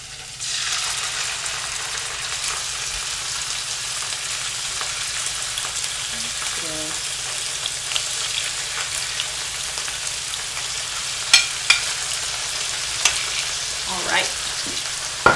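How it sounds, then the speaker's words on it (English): Food fries in olive oil in a pan with a continuous, dense sizzle that holds steady throughout, close and loud, broken by a few light clinks and a brief spoken word. "Get those in there. Hear them sizzling."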